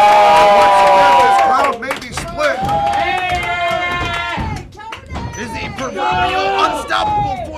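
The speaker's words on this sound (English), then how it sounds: "We have a very boisterous crowd this week here in Lincoln, Michigan." Boisterous crowd at a live professional wrestling show in Lincoln, Michigan, cheering and clapping loudly throughout, with roaring swells and a busy wash of shouting voices.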